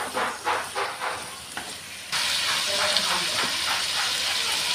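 Ginger garlic paste and spices sauté in a pan for fish curry, sizzling softly with a few scrape pulses, then jumping to a loud, steady frying hiss after something is added partway through.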